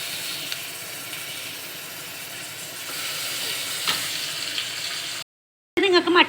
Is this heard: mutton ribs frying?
yes